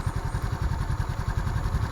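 Single-cylinder Motorstar Easyride 150 motorcycle engine, two months old, idling close by with a steady, even rhythmic thrum and light clatter, no voices.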